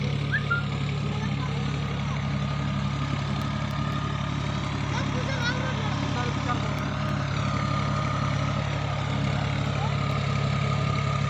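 A tractor engine drones steadily in a rain-soaked paddy field, a low continuous idle-like rumble that holds throughout, with faint chirps and people talking over it.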